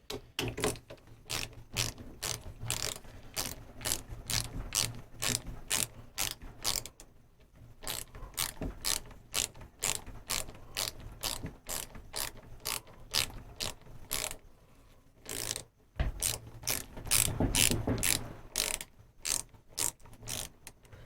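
A ratchet wrench clicks rapidly in long runs while a 2010 Rockshox SID Race 26-inch front fork with remote lockout is rebuilt, close and crisp, pausing briefly twice, with no voices.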